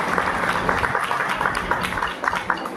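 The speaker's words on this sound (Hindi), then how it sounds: "ताली बजाकर इनका स्वागत करें और अभिनंदन करें" An audience at a Hartalika Teej event in Delhi applauds to welcome guests, a dense, continuous patter of many hands clapping at close range.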